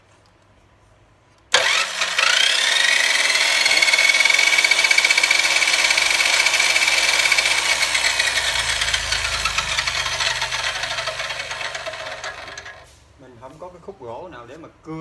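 A Japanese domestic 100V electric power saw starts up indoors and cuts wood, a loud, sustained high whine that runs for about eleven seconds before winding down, followed by a brief spoken word.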